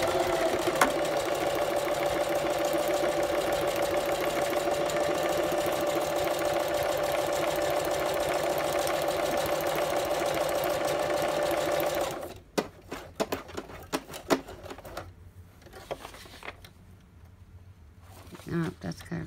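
A sewing machine stitches a zigzag seam along a folio journal in a continuous, fast buzzing run lasting about twelve seconds, then stops, followed by scattered handling clicks and rustles of paper and fabric.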